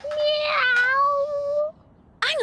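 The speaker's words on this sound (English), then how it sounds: "An alien robot meow." A synthetic alien robot meow from a video game rings out as a long, wavering, electronic cat-like cry, loud and close, followed after a short pause by a brief second meow-like chirp.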